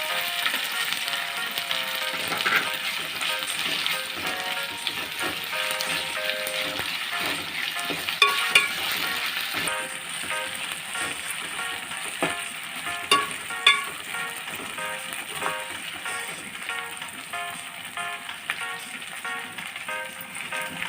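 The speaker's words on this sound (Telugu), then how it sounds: "పుదీనా, అల్లం వెల్లుల్లి పేస్ట్ కూడా వేయించుకున్నాం." Mint leaves and ginger garlic paste frying in a pan for chicken curry, a steady dense sizzle with stirring scrapes and a few sharp clinks, close and continuous throughout without talk.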